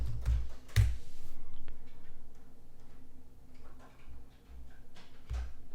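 Light, quick keystrokes tapped on a computer keyboard, faint and close, in short irregular clusters with a couple of sharper clicks against a quiet room hum.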